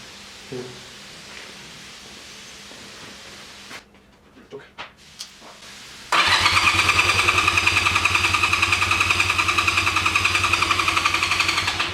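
A 1985 Honda Rebel motorcycle engine, unused for 17 years, catches after a few scattered clunks and bursts, then settles into a loud, steady, rapid idle that runs to the end.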